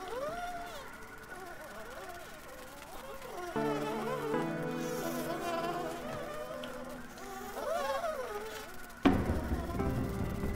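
Insects buzzing in the Grounded survival game, with wavering buzz tones rising and falling over steady game music, plus a sharper hit near the end.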